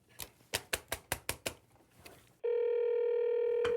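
A telephone in an office: a quick run of sharp mechanical clicks, then a sudden steady electronic ring tone that holds loud and unbroken, with one more click near the end.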